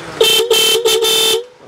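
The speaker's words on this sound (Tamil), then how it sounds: "நெக்ஸ்ட் பார்த்தீங்கன்னா ரூட்ஸ்ல நம்மள்ட்ட ஹாரன் இருக்கு." An aftermarket motorcycle horn sounded at a bike accessories shop in Coimbatore, four loud, close honks in quick succession, the last held slightly longer.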